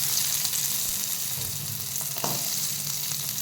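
Onion frying in a little oil, a steady close broadband sizzle with a few light stirring scrapes, no voices.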